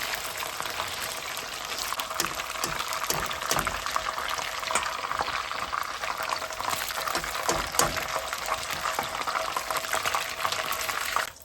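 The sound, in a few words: garlic butter chicken pieces shallow frying in pan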